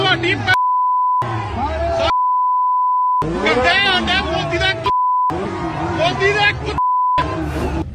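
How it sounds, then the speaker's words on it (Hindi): Steady censor beeps cover abusive words in a news clip of protest chanting, several flat tones alternating with bursts of shouting voices and crowd noise. "हमने बीप कर दिया है जहां पर गाली की आवाज है।"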